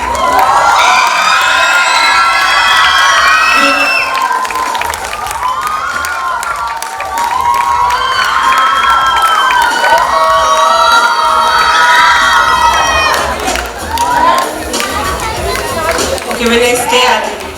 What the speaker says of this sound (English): The cheer was so loud I had to wait to read this.